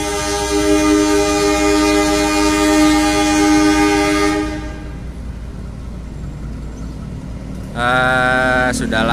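A Merak local passenger train rolls past loud and close for several seconds in a steady, dense rumble, then fades, and a sustained horn blast sounds near the end.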